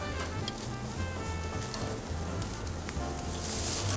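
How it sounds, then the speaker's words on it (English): Chilies, red onion and tomatillos char on a grill, giving a steady, close sizzle and crackle with a constant hiss that keeps going without a break. "Really put a nice char on these chilies. Red onion and the tomatillos. Now let's just let the grill do the work."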